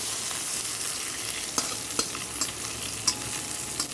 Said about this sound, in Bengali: এখন একটা ডিম মেখে ভেজে দিচ্ছি